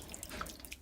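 Hot water splashing from a container onto frozen ground outdoors in freezing temperatures, a short, soft pour with a faint trickle and scattered drips.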